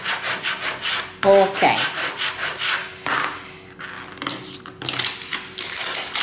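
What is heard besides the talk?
pressing tape down firmly onto a laser-printed sheet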